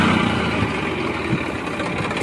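A New Holland 3510 tractor hitched to a 10-foot rotavator runs at about 1500 RPM, its engine a steady, close, rumbling drone with slight fluctuations and no talking.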